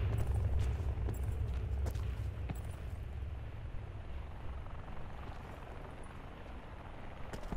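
Steady rotor thump and engine roar from a helicopter overhead in a Call of Duty Blackout match, loud and continuous, with occasional sharp game sounds over it.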